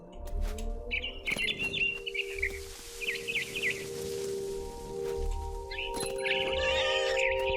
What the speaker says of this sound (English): I tried to be quiet, but the bird was really scared.